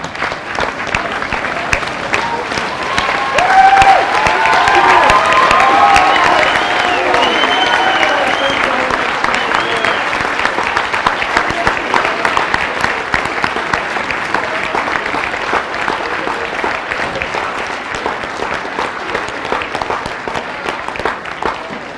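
A high school assembly crowd stands and applauds its senior athletes in a gym, long sustained clapping from many hands that swells early and then continues steadily with scattered cheers and voices.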